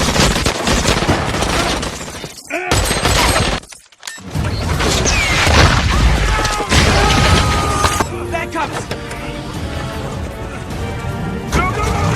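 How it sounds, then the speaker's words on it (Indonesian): Loud, dense gunfire tears through a restaurant shootout in The Green Hornet, with rapid bursts, shattering glass and crashing debris, broken by a brief near-silent gap before the chaos resumes amid music. "aksi tembak-tembakan pun terjadi di restoran itu"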